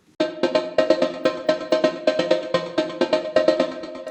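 A short snippet of a musician's voice, pitched into a synthetic chord with a fifth dropped an octave lower, plays as a bright harmonic stack in quick rhythmic pulses, loud and alone.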